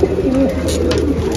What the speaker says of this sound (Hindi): और जी ये देखिए देवबंदी कबूतर